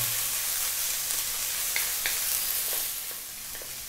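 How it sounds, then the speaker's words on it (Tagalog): Celery and chopped onion sizzle steadily in a pot while being stirred, with faint scraping strokes over a continuous close frying hiss. "So haluin ko lang sandali bago tayo mag-add ng ating minarinate na chicken."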